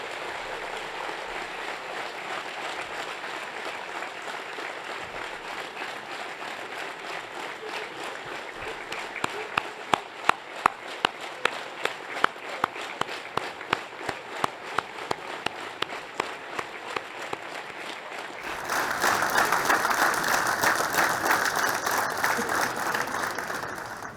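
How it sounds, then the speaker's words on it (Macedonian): A crowd at a public rally breaks into sustained applause greeting war veterans and their families, dense clapping that builds, turns into rhythmic unified claps, then swells into a louder burst near the end. "Би сакал со еден огромен аплауз да ги поздравиме тие луѓе."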